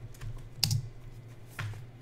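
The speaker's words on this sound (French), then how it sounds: "marche pas sur le clavier." A cat steps across a computer keyboard, making a few soft scattered key clicks with one sharper press, faint against a low background hum.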